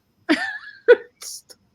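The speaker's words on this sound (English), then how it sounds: "I started coughing." A couple of harsh, close coughs in quick succession, followed by a short breathy sound.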